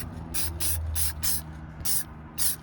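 Short bursts of Rust-Oleum Gloss Clear spray paint hissing onto deer antlers for a DIY mount, about seven quick sprays in an uneven rhythm, close and fairly loud with quiet gaps between.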